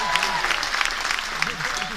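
Passengers aboard the Marella Explorer cruise ship applauding the crew, a dense burst of clapping from a large crowd with a voice talking over it.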